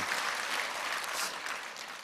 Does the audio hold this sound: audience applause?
yes